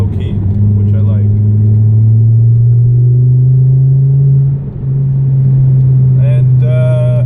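Car engine idling with a low, steady exhaust rumble, loud and close throughout, a brief dip near the end, and a voice briefly heard at the close.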